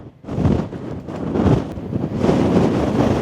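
Strong wind buffets the microphone in loud, rumbling gusts during an off-road drive in a Toyota Tacoma, with a roaring, blustery texture throughout and no voices.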